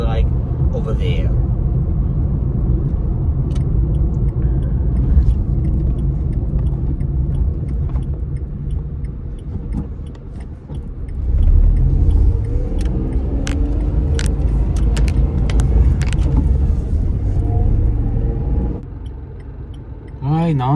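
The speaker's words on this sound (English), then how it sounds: "Let us take the Kwid for a small bit of highway to see how is it like over there." Inside a 2017 Renault Kwid driving on a highway, a steady low engine and road rumble drones on, with a brief swell in the middle and scattered clicks and rattles toward the end; a voice talks over it.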